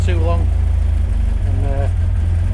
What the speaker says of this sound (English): Don't want it idling for too long.